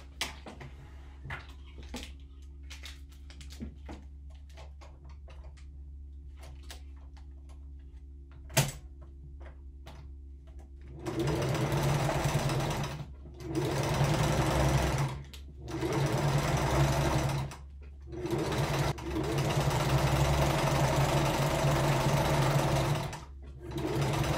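A sewing machine stitches the sides of an upcycled dog food bag into a grocery tote, running in several steady bursts with short pauses after a quiet stretch of ambient room noise.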